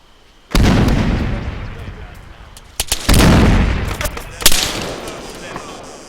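Grenade explosions in the military shooter Arma 3 during an online group event: three loud, booming blasts with rumbling tails, spaced a couple of seconds apart, and crackles of gunfire between them under excited players' voices.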